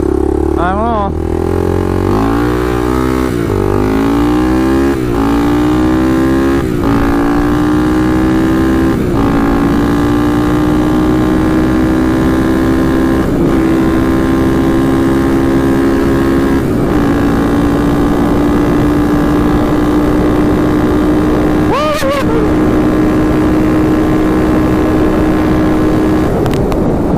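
A Honda ATC 350x three-wheeler's engine runs loudly and close, its pitch climbing through revs and then settling into a steady drone, with a brief dip near the end and a voice partly audible.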